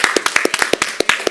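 Short burst of applause at a city commission meeting, a small group clapping with distinct, fairly close claps in an uneven rhythm, about a dozen sharp hits.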